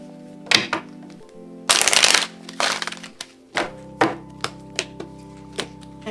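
Oracle cards are shuffled by hand, with a long riffling burst and several short taps and slaps in an irregular rhythm, close and clear over a faint steady hum.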